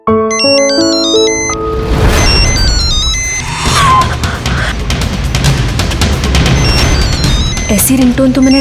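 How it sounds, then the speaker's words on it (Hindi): A melodic electronic phone ringtone chimes at the start, followed by loud clattering and crashing noise with people speaking, then a short tone near the end. "ऐसी रिंगटोन तो मैंने ट्रायल रूम के बाहर सुनी थी।"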